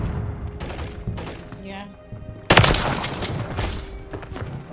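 Video game gunfire bursts out in a rapid fusillade, a sharp loud volley after scattered earlier shots, with players talking over the action.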